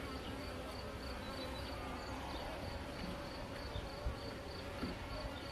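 Honeybees at an opened hive give a faint, steady background buzz, a continuous low drone with small knocks.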